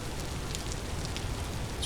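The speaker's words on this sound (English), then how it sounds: "It's a beautiful rainy day." Rain in the video game Vintage Story, a steady soft hiss of falling drops with faint scattered patters, continuous and even throughout.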